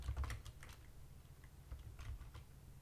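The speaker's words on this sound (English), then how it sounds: "Chris, stop hammering keys and think for a second." Fast, uneven tapping on a computer keyboard, with quiet clustered keystrokes in bursts and short pauses, close but soft against a low background rumble.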